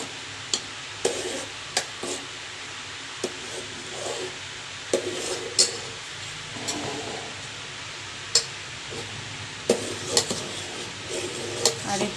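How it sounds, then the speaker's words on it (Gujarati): Melting butter being stirred in a pot to make ghee, with a gentle simmering sizzle under repeated scrapes and clinks of a spoon against the pot, close and moderately quiet. "આ રીતે સતત હલાવતું રહેવાનું છે"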